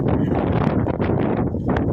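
Strong gusty seaside wind buffeting the microphone outdoors, a loud continuous rumble with rustling surges throughout.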